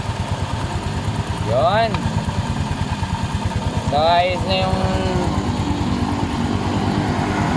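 Food Panda delivery rider's motorcycle engine idling evenly after repair, a close, steady low putter with two brief rising whines, while someone talks over it.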